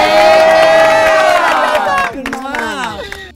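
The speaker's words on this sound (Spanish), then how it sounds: "Reciban con un fuerte aplauso" A studio audience at a drag competition show erupts in loud, close cheering and shouting to welcome a guest, a dense roar of voices that thins and breaks into scattered whoops near the end.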